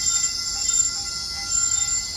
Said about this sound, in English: Here comes Caltrain 113. That's a northbound local train making all stops to 4th and King Street station in San Francisco.